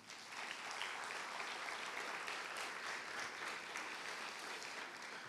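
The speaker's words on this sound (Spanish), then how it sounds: "Del otro aplauso al Señor" Steady applause from a church congregation praising the Lord after a prayer, a dense, even wash of many hands clapping throughout.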